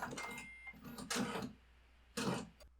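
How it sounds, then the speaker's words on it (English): A home printer whirs and clatters in short mechanical bursts separated by brief pauses, close by in a quiet room. "That's my printer deciding to do something"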